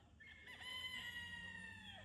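Chickens in a backyard spring garden vocalising, with a rooster-like crow or drawn-out call standing out over soft clucking and background noise, close and fairly quiet throughout.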